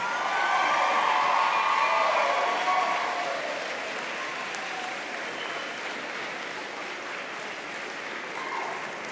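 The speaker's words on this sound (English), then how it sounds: "I know that you'd like to turn and thank your family and friends with a big round of applause" A large convocation audience at Fleming applauds graduates' family and friends, a dense, steady roar of clapping loudest in the first few seconds, then easing slightly and holding on through the end.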